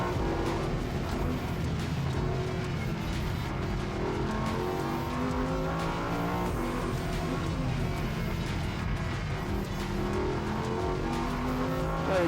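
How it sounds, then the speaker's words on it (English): Race car engine driven hard through corners at the limit, loud and continuous from the cockpit, with rising and falling revs and gear changes, and little else. "Car is feeling more and more on the limit."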